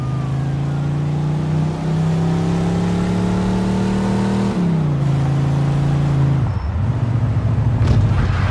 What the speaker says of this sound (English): In pursuit of a speeding vehicle.